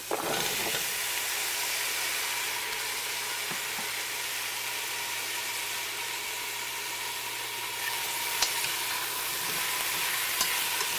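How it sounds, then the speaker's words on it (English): Potatoes and onions frying in a pan for curried shrimp and vegetables, a loud continuous sizzle close up with a faint crackle of stirring throughout. "So the next thing I'm going to do is add the potatoes, because I want these to brown a little bit before I add the other ingredients."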